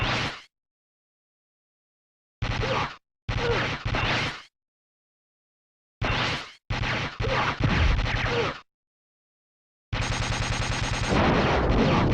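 Rapid machine-gun fire from the SNES light-gun shooter Operation Thunderbolt, loud game gunfire in separate bursts of varying length with dead silence between them and a longer final burst.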